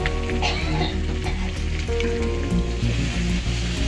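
Ginger, garlic and spices frying in a pan throw off a loud, steady sizzle with occasional stirring scrapes, and no one speaks over it.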